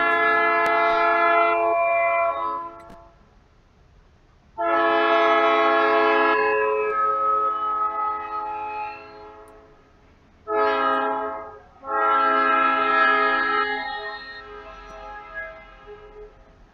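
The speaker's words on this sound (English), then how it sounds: "I wish there wasn't a train to completely ruin this victory." A train horn in the video game Freddy Fazbear's Pizzeria Simulator blares in four loud, sustained blasts, two long, one short, then another long, with quiet gaps between them.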